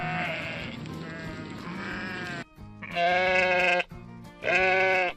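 A sheep bleats several times in close succession, starting with a long wavering cry and then two shorter, strong calls, each clear and alone.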